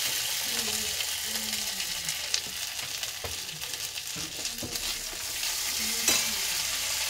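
Oil sizzles and fries steadily in a pan while ingredients are stirred, with soft scraping and clinking under a continuous hiss.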